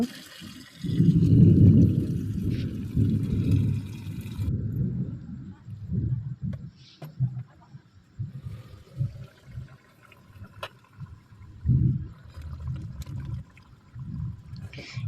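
Water is poured into a pan of chicken curry cooking in oil, giving a loud gushing splash at first, then quieter bubbling and sloshing bursts with clinks and a pause; no voices.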